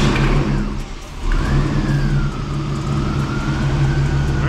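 Car engine on a classic car just fitted with a swapped transmission, running and revving at mid pitch with a rising and falling whine, loud and steady throughout with no talk.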